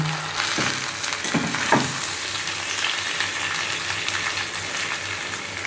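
Ginger and turmeric fry in hot oil for moong dal khichuri, giving a close, busy sizzle with a few quick stirring scrapes early on, then a steady crackle through to the end.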